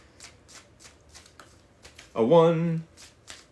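Tarot cards being shuffled for a collective reading, one brief, loud riffling burst of cards flicking against each other, with soft talk and quiet handling noises before and after it.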